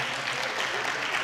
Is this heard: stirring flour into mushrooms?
no